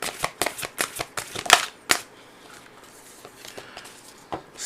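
Angels and ancestors oracle cards being shuffled by hand in quick papery riffles, about eight sharp close bursts in the first two seconds, then a quieter pause and one more riffle near the end.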